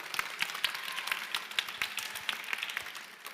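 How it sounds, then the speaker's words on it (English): Applause from an audience at a book event honoring a Cambridge professor, a moderate crowd clapping steadily with distinct individual claps, fairly soft and somewhat distant. "A big round of applause,"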